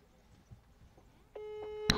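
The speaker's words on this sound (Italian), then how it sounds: "Vediamo se risponde la nostra Mazzucchella." WhatsApp call ringing tone placed from a phone: after faint background murmurs, a steady electronic tone starts suddenly and holds, fairly close and clear, ending with a short sharp click.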